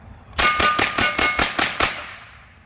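A Remington 522 Viper .22LR rifle is fired from the hip outdoors, with eight sharp, evenly spaced shots, each followed by a metallic ring. The shots are loud and close, and a short ringing tail follows the last one.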